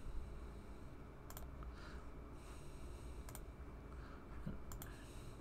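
Faint, sharp computer mouse clicks, heard as a few isolated single and double clicks spaced a second or two apart over a quiet room hum.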